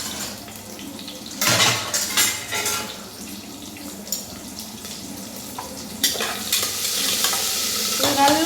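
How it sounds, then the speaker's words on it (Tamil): Small onions sizzle and sauté in a pan for mutton curry, a steady frying hiss broken by louder bursts of stirring and scraping. "ஒரு கைப்பிடி அளவு தான் சின்ன வெங்காயம் தான் போடணும்."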